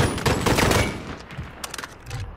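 Rapid M4 rifle fire in a video game crackles in dense bursts, loud and close, easing into scattered shots.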